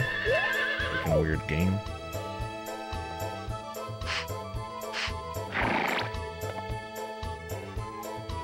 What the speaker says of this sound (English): I can talk to the horse?